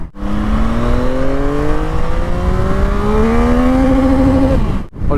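Yamaha MT-09 SP three-cylinder motorcycle engine pulling hard and loud, its pitch rising steadily through a long acceleration for several seconds before a brief drop, heard up close with no talk.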